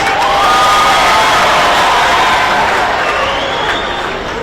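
A large crowd at a South Africa Freedom Day celebration cheers and whoops loudly with scattered clapping, a dense roar that fades slightly toward the end.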